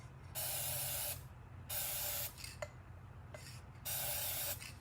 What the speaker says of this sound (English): take our mirror glass spray one more time, and we'll spray the insides of these